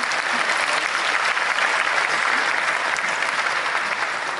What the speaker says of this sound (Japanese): 拍手でお迎えください。